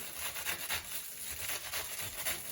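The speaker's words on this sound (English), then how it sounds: "We have a little bit of onions that we are not going to grate all of it" Onions are grated for a grilled short rib recipe, giving a soft, steady, rhythmic scraping and rasping close by, fairly quiet, with no voices.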